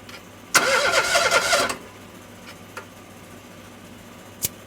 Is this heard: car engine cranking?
yes